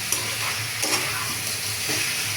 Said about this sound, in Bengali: সবজি কষানো শেষ